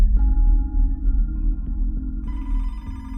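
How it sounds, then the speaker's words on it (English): An old-style telephone rings with a repeating electronic trill, moderately loud over a low background hum, with a brighter tone joining partway through. "Detective Gamber got a phone call at his desk"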